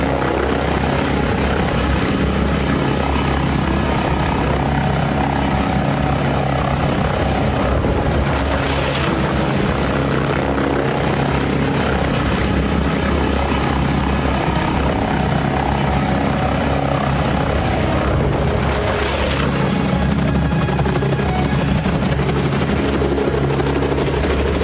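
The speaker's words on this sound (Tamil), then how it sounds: "வெளிநாட்டுல இப்படிதான் விபத்துல சிக்கின காரை காப்பாத்துறதுக்காக ஹெலிகாப்டர் வந்திருக்குது" A helicopter arrives over the scene of a car crash abroad, rescuing the wrecked vehicle. Its steady rotor and engine roar stays loud and close throughout, with no voices.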